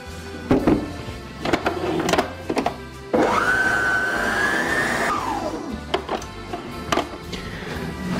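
A kitchen mixer fitted with a dough hook works through dough as flour and soda go in. Its motor whines steadily for about two seconds, surrounded by clattering and knocking before and after.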